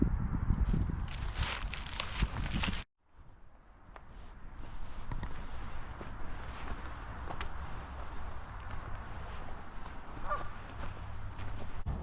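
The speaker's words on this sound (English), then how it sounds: "You probably can hear the geese." Geese honk intermittently in the distance near a creek along the Pennypack Trail, over outdoor ambience, with scuffing footsteps up close at the start before a brief cut.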